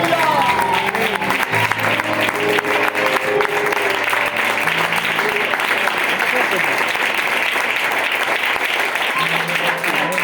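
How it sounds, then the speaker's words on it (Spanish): Congregation applauding in church during worship, a loud continuous wash of clapping with voices and some tonal music or singing underneath throughout. "Aplaude al Señor"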